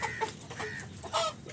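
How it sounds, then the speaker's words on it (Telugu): Country hens in a farm coop cluck softly in short, scattered calls from nearby, with quiet background noise in between. "మంచిగా ఎగ్స్ పెట్టినాయి కోళ్ళు"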